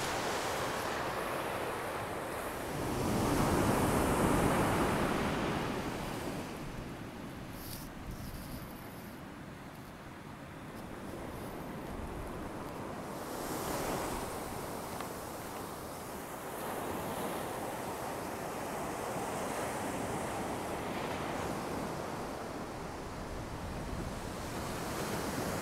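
Ocean surf breaks along a shore at high tide, a steady broad wash with a louder surge early on and wind buffeting the microphone throughout; no voices.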